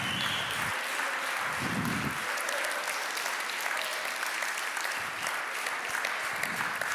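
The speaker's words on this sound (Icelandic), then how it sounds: "Við verðum að halda áfram að klappa." At a confirmation-class church service, the congregation keeps up a sustained, even round of clapping, full and continuous, with faint low voices underneath.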